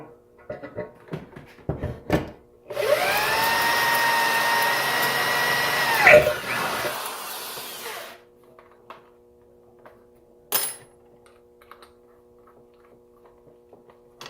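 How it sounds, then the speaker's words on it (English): A steady, loud drill whine as a step bit bores a hole in an oil pan, running about five seconds and rising slightly in pitch before cutting off, framed by clanks and taps in a quiet shop. "I already marked it out, so I'll drill a hole."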